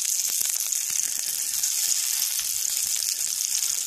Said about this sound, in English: I'm gonna fry up these sausages